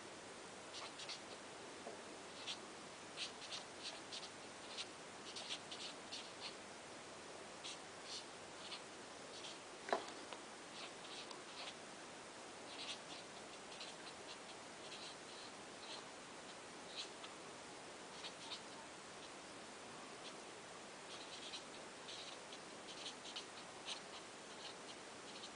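In a philosophy class, a teacher writes on the board, making faint, scattered scratching taps that come and go over a quiet hiss of room tone. Nobody speaks.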